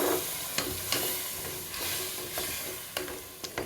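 Curry sizzles and steams in a pan after hot water is poured in, with a loud, close hiss and several sharp stirring scrapes and clicks throughout.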